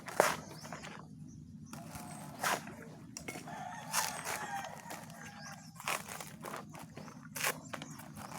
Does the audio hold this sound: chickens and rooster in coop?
yes